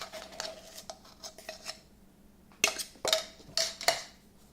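Coconut flour, erythritol and baking powder being mixed in a bowl with a utensil, a scatter of light scrapes and taps that turns into several louder clinking stirs near the end, close and unaccompanied by speech.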